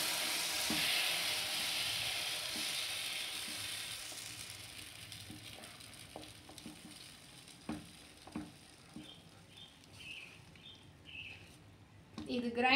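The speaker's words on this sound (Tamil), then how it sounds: "இப்போ செவந்திருச்சி உளுத்தம் பருப்பு நான் இந்த மோர் அரிசி மாவை விடுறேன்" Urad dal tempering sizzles loudly in a pan, then buttermilk rice flour batter is poured in and the hiss fades into scattered pops and taps, with a voice speaking at times.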